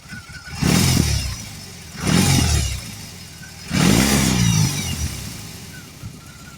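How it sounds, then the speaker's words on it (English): A BMW R18 Transcontinental motorcycle on its factory exhaust revs three times, each throaty surge rising and falling back to a low idle, close and moderately loud with no talking. "I'll give it a few revs and you can just listen up. But it's not super loud. This is your factory exhaust system."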